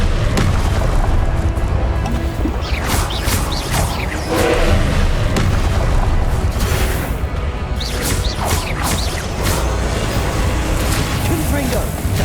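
Confringo spell blasts in Hogwarts Legacy, loud booms and crashes repeating through a hectic fight, with a voice casting spells over the effects.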